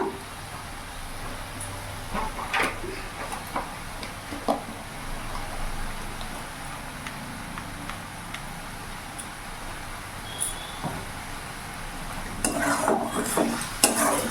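Kashmiri chili powder being stirred into an egg curry masala in a pan, heard as repeated close scrapes and clinks of a spoon against metal over a soft sizzle, busier toward the end.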